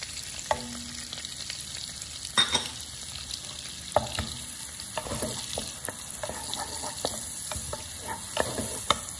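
Garlic and onion frying in a pan, a continuous close sizzle broken by scattered clicks and scrapes of stirring, with no voices over it.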